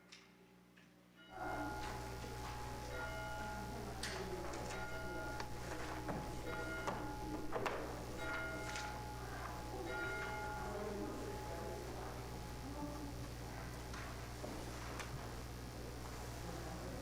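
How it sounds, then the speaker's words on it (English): A church bell rings to open a worship service, with repeated bright strikes and lingering tones sounding steadily in a quiet room after a brief silent start. "We will begin our service with the ringing of the bell and the lighting of the Christ candle."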